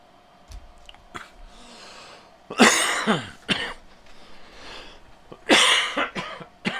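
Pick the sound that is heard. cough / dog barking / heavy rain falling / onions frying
cough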